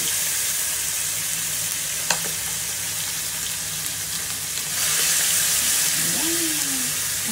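Fish frying on a home kitchen stove, with a loud, dense, continuous sizzle that steps up slightly partway through, plus a faint click and a brief tonal squeak near the end.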